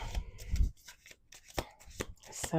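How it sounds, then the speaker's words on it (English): Playing cards shuffled by hand at a tarot reading table, heard as a brief riffle and then several sharp, separate card snaps and flicks, close and moderately loud, with no talking. "We're going to do 2 more shuffles."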